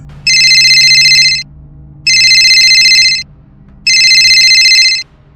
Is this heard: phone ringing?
yes